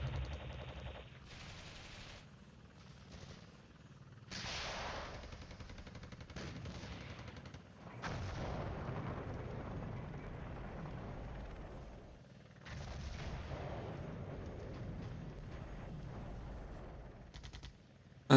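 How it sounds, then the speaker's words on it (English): Mortars firing in the Flashpoint Campaigns Cold War night assault: bursts of rumbling, crackling fire and booming reports come in several blocks separated by brief gaps, moderately loud with a distant, battlefield character. "Oh, the mortars are firing."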